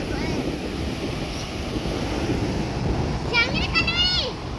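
Sea waves wash steadily onto a sunny beach at low tide, a continuous broad rush of surf mixed with wind buffeting the microphone, with a faint voice speaking near the end.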